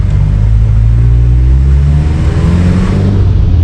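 A warmed-up turbocharged car engine, the turbo having caught fire, revs in a loud, steady, throaty drone that holds close and continuous with no voices.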